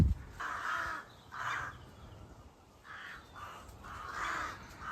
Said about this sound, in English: We see like crows, don't you? In like a graveyard, just to add to the ambience.